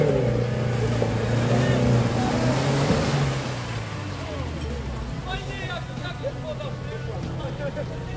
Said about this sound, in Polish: Odpali, tylko od razu mu przygazuj.